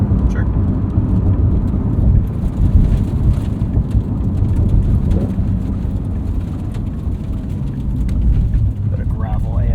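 Tyres of a 2025 Porsche 911 Carrera S (992.2) rolling over gravel, a dense, continuous low crunching rumble from nearby that runs through the whole stretch, with a few faint ticks and a voice briefly present.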